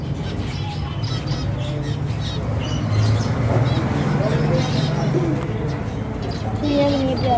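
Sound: small birds chirping on a bird farm

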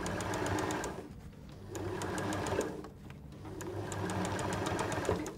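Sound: sewing machine sewing liner to outer fabric

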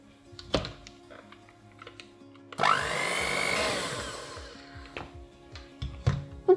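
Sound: electric mixer mixing cake batter with flour and milk

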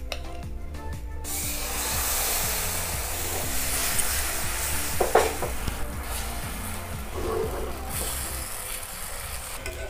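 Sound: gola ruti frying in oil in a pan

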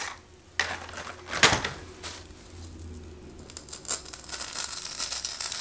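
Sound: cutting styrofoam

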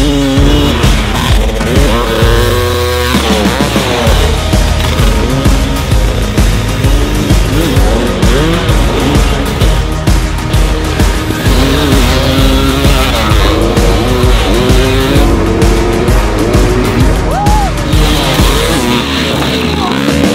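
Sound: 40-year-old vintage dirt bike engine while riding

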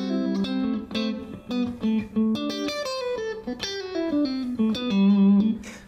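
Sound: electric guitar through Red Plate RP5OR amp, mid switch pulled, deeper

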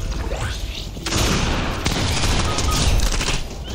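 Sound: gunfire in the video game Fortnite

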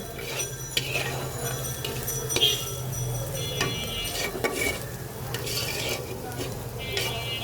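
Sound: prawns added to pan with spice mix, stirring and frying

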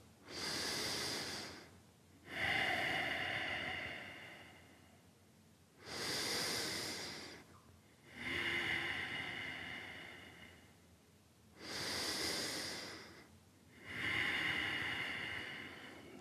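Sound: slow deep breathing during yoga practice

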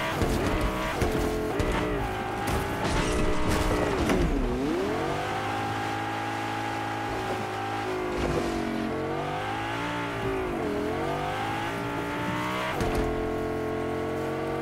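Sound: car driving in Fortnite video game

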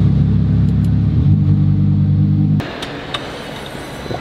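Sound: Lamborghini 10-cylinder engine starting and revving

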